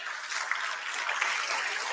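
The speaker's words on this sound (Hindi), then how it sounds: "क्या बात है, लास्ट बार ताली बजाओ।" Applause from a coaching-class audience, a dense steady patter of many hands clapping continuously at moderate loudness with no pauses.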